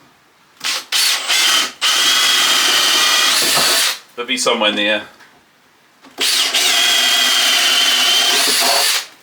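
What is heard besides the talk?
hand power drill drilling holes for coach bolts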